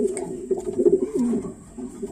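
Racing pigeons coo softly nearby, a few low throaty calls rolling one after another.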